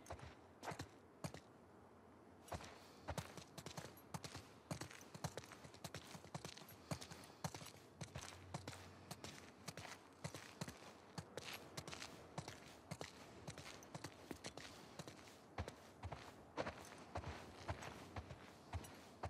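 Hooves clip-clop in a steady, repeated rhythm at a quiet level, like horses walking on hard ground, with no voices, in the video game The Last of Us Part II.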